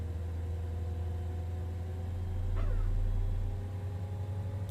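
A Citation X jet engine starting up in Microsoft Flight Simulator 2024 gives a steady low hum with a smooth rising swell midway as it comes online, with no talking.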